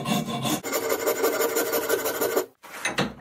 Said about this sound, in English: When you're coming across these concave curves, you want to swap over to a rounded rasp